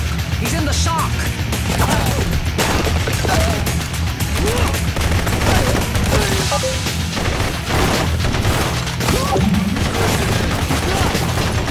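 Dense, continuous gunfire from the shooter video game Blue Estate, with rapid overlapping shots and booms filling the whole stretch at high volume, and occasional faint voices mixed in.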